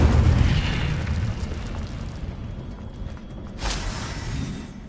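A fiery Incendio spell blast from Hogwarts Legacy bursts as a loud, low rumbling boom that decays slowly, with a second softer burst swelling near the end.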